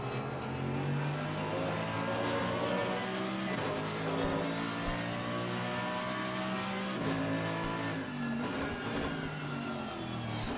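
GT race cars, including an Aston Martin and a Mercedes, braking and accelerating at Misano during a six-hour race: a continuous, loud engine roar with layered revs rising and falling, no voices.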